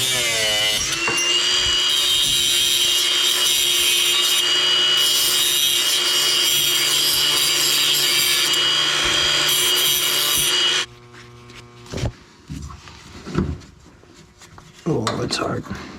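A handheld angle grinder cuts metal while mounting LED pod lights and a light bar on a 3rd Gen Toyota 4Runner, a loud steady high-pitched whine that stops abruptly, followed by quieter clanks and handling noises.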